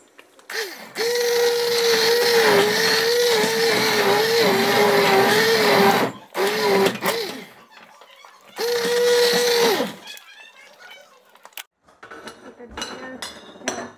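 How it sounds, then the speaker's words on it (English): A kitchen blender whirs loudly in long bursts, blending apples and chillies for jam, stopping and restarting several times, followed by quieter clinking of glass and utensils. "This is just a normal blender, and just blend it."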